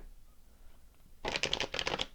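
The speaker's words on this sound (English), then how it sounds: "Do a couple more shuffles." Tarot cards being shuffled by hand, a quick flurry of crisp riffling bursts after a second of quiet room tone, close and fairly soft.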